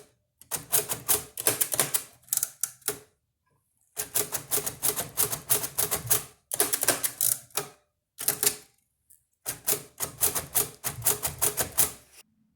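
A Braille writer embosses Braille onto paper in bursts of rapid, loud mechanical key strikes, separated by short quiet pauses, with no talking.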